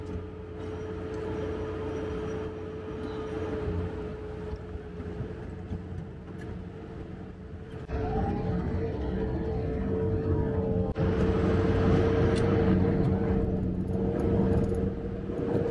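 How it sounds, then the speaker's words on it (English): A Sherp all-terrain vehicle strains to pull its back tires up onto ice, its engine a steady low rumble and drone that grows heavier and louder partway through, with no talking. "the front of the Sherp is basically up on the ice, and we're trying to pull those back tires up onto the ice"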